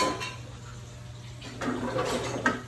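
A plate being picked up and handled while cooking egg with bitter gourd, a few faint clinks and scrapes in the second half over a low steady hum.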